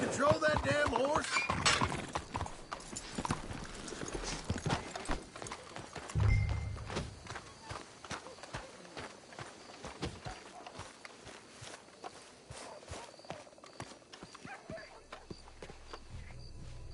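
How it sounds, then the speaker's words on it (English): A horse in the video game Red Dead Redemption 2 clops along steadily beneath a dense game soundscape with ongoing talk. "Can't you control that damn horse?"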